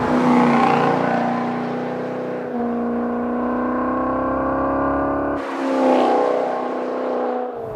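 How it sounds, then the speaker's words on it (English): 2013 Maserati GranTurismo Sport V8 exhaust in manual mode, a loud sustained engine note rising through revs, shifting up and climbing again, with a rich deep tone close by and no talk. "You slide it in manual mode, and the exhaust opens up, and you just get a deeper, rich tone."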